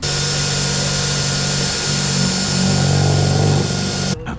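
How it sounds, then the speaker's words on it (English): A power drill bores holes in a restored 1987 Pointer 17 ft center console boat. A loud, steady motor whine with a humming tone runs for about four seconds, then cuts off abruptly. "now I'm gonna start drilling some holes and get some wires in there"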